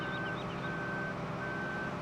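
Steady electronic reversing beeps from a tractor backing up in a farming video game, repeating evenly over a constant engine drone with no talking.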